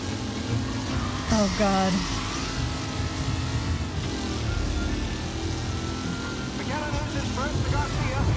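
A car engine hums steadily while driving in Mafia: Definitive Edition, a 1930s-era game, with faint shifts in pitch as it slows and speeds up through turns, mostly buried under a player's talking.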